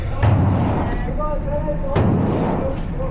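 Gunfire at an outdoor shooting range during a second magazine: two loud, sharp reports about 1.75 seconds apart, each with a rumbling tail, over steady background noise and some talk.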